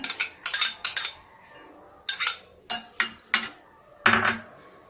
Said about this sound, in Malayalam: ഒരു ബൗളിലേക്ക് നമുക്ക് ഈ വെണ്ടക്ക ഇട്ട് കൊടുക്കാം.